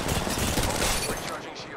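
Rapid gunfire in the video game Apex Legends Mobile, a dense burst of automatic shots blurring into one continuous crackling roar that stays loud throughout.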